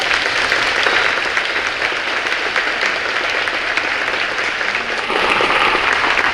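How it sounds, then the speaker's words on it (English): Dense, sustained applause from a seated concert audience at a high school spring pops concert, honoring a student as she stands; loud, steady clapping that fills the whole stretch with no talk over it. "would you please give a round of applause to Amber Brockberg's going to stand up"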